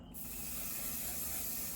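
A continuous aerosol hiss of makeup fixing spray close by after a brief quiet start, steady and even for nearly two seconds.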